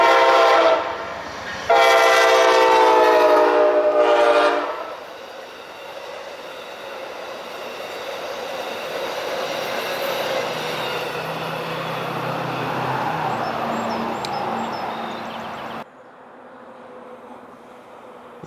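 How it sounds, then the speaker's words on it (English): Amtrak's eastbound Pennsylvanian passenger train passes a Railroad Street grade crossing on the Norfolk Southern Pittsburgh Line, opening with loud sustained horn blasts, then a steady rumbling roll of wheels and cars that fades before cutting out. "as Amtrak's eastbound Pennsylvanian crosses Railroad Street"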